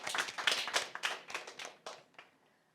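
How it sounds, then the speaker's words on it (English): A small audience clapping at a school spelling competition, distinct close hand claps that start busy and thin out, fading to near silence by the end. "You can clap him, yes?"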